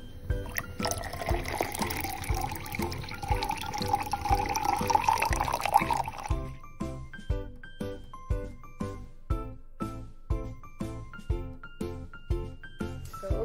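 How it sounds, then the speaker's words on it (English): Lukewarm water is drunk in a continuous stretch of liquid swallowing and pouring, then gives way to a regular series of distinct rhythmic gulps, close and fairly quiet, with no talk. "once I'm done drinking my water"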